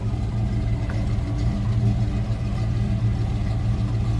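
A 1970 Pontiac GTO's 455 V8 idles with a deep, even burble, loud and close, steady throughout with no voices.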